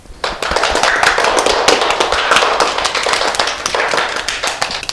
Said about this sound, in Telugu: very nice claps